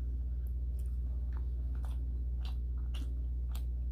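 Truffle fries from a ghost kitchen bitten and chewed close up, a series of soft crunchy bites spaced about half a second apart over a steady low hum, with no talking.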